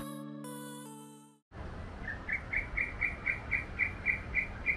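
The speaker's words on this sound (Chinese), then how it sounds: "听到了很原始的鸟叫声。" Birds call outdoors near Singapore's Marina Bay: after a short burst of music cuts out, a series of about ten bright, evenly spaced chirps repeats over a soft ambient hiss, moderately close.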